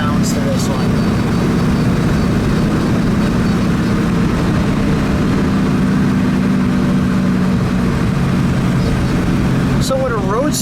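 A 1930 Cadillac Roadster with its 452 cubic inch V16 runs steadily at a low, even idle, a continuous close engine drone throughout with a faint voice near the end.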